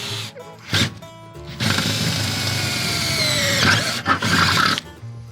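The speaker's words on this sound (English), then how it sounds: "We're going to drill through the door" A 3/8 drill bores through a metal door, starting in short bursts and then whining in a long, loud, near stretch, followed by more brief bursts, with no talking.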